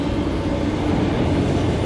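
An NYC subway R160 train running, a steady broadband rumble and rail roar, close and loud with no voices.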